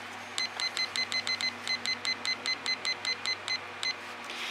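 A kitchen timer being set gives a rapid run of about twenty short, high electronic beeps in an even rhythm, clear and close over quiet background hiss, stopping abruptly near the end.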